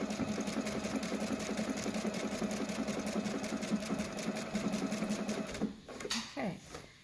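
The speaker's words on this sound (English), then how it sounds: "I'm going to press Start Stop, and it's going to go backwards and stitch the next decorative stitch" A Husqvarna Viking Performance Icon sewing machine runs a decorative radiant stitch in reverse, giving a steady rapid mechanical chatter close by that stops near the end, followed by a few clicks and faint handling sounds.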